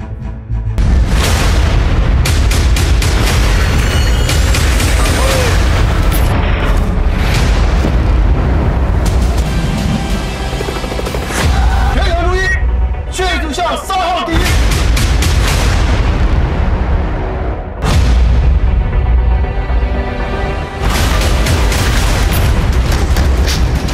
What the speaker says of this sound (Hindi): चीन के इन सैनिकों ने भारतीय जवानों को डराने के लिए हवा में गोलियां दागी।